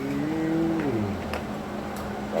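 A person imitates a cow, giving one drawn-out low moo that slides downward in pitch, fairly quiet and close, with no other talk.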